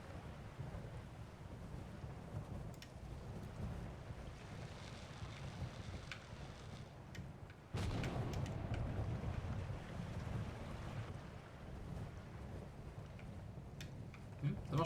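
Wind and water rush around a sailboat in a video game as it sails against the wind, a steady broadband roar with a louder gust midway, continuous and close.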